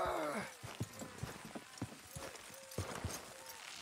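Horse hooves clip-clopping in the Red Dead Redemption 2 video game, a close, irregular series of hoof strikes over soft background ambience, with no talk.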